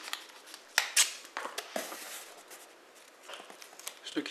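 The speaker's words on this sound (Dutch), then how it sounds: "Stukje tape erom." Adhesive tape crackles and rips in short bursts as it is wound around a fireworks fuse joining cake batteries, close up, with soft handling rustles between the pulls.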